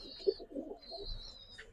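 Original-breed Pakistani pigeons coo in a few soft, low bursts close by, with a faint high whistle-like tone drifting in and out behind them.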